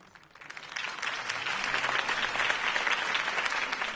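Crowd applause at a political campaign rally for a city election, starting soft and swelling within a second into sustained, dense clapping that holds steady and loud to the end.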